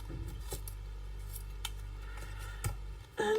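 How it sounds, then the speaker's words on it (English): Scissors snip a thin strip of card stock for a handmade birthday card, a few crisp cuts close by with faint handling noise between them. "I'm just gonna cut another thin little bit"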